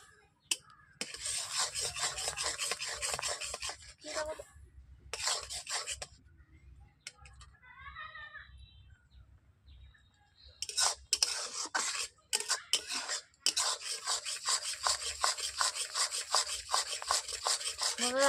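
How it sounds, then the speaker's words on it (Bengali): Boiled mung dal mashed in a pot, heard as long stretches of scraping, rubbing strokes broken by brief quiet pauses, close and fairly loud. "দেখতেই পাচ্ছেন আমি ডালটাকে ভালোভাবে ঘেঁটে নিচ্ছি যাতে গোটা গোটা দানা না পড়ে থাকে"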